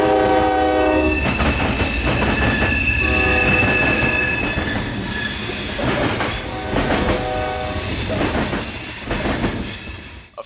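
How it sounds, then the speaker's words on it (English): Q442, a nightly mixed freight train from Yeoman Yard in Tampa to Rice Yard in Waycross carrying Tropicana cars and auto racks, rolls past loud and close, with squealing wheels, sustained horn blasts and rhythmic clickety-clack over the rails. "Nightly mixed freight out of Yeoman Yard,"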